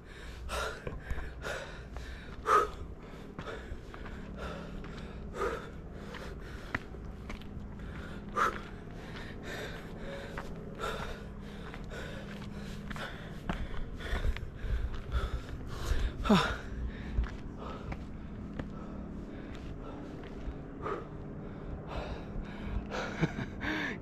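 A hiker breathes heavily and pants on the trail to Lower Dewey Lake in Skagway, with repeated loud gasping breaths, close to the microphone and steady for the whole stretch, over faint outdoor background noise.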